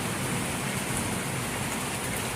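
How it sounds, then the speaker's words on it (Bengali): Steady rain falling on a dark, stormy evening at a farm where a sacrificial cow is kept, a constant even hiss with no voices. "বৃষ্টি পড়তেছে"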